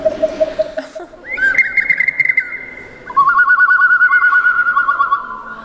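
A water-filled clay whistle imitates woodpeckers in sustained, warbling tones that shift pitch between long held notes, close and fairly loud, with faint background noise.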